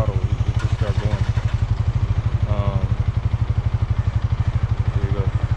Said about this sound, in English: you hear the engine kind of slow down